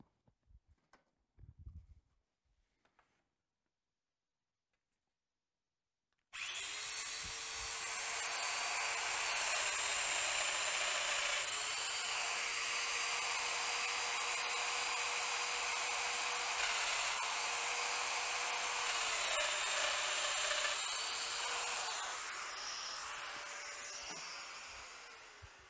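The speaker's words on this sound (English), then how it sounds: "The first two holes have now been routed." Festool Domino joiner routing holes in a workpiece clamped on an MFT multifunction table: after a few quiet handling knocks, the motor starts and whines loudly and steadily for about twenty seconds, its pitch dipping slightly as it plunges into the wood.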